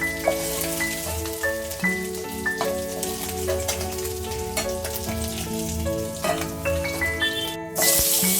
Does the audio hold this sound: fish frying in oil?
yes